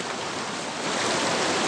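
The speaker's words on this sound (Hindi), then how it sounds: "पानी बहुत हिट से चल रही है" Fast-flowing stream water rushes through a jungle in North East India as a steady, dense hiss that fills the whole moment without letting up, with no voices.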